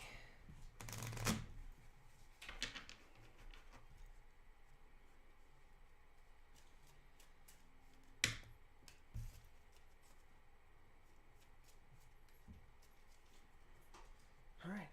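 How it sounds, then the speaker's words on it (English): Deck of cards riffled and shuffled for a Dice Throne board game session, a few short, crisp bursts of shuffling close up against a quiet room with a faint background hiss. "Alright, that should be shuffled enough for you."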